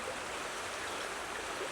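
Clay-coloured water pours out of a pond in Cornwall's clay country, making a steady, soft rushing hiss with no break and no voices.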